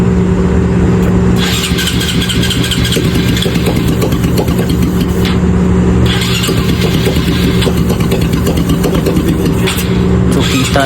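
A car engine with water inside it runs loudly and steadily, a constant rumbling idle with a droning hum that never lets up, as water sputters from the exhaust.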